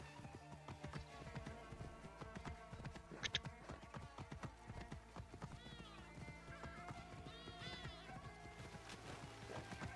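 Horse hooves clip-clop in a steady galloping rhythm in Assassin's Creed Origins, with occasional whinnies and neighs over quiet game ambience.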